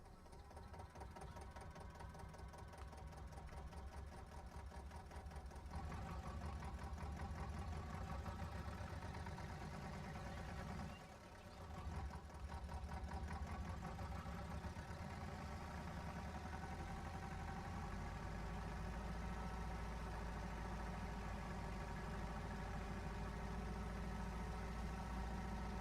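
A tractor engine in Farming Simulator 22 chugs steadily at idle with a rhythmic knocking throb, briefly dipping around the middle before resuming its continuous drone.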